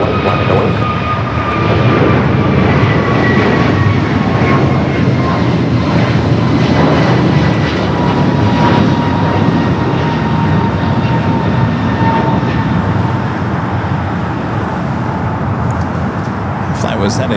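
An airliner takes off at Los Angeles airport, its engines roaring steadily and loudly for the whole stretch with rising whine tones, as tower radio talk plays faintly underneath.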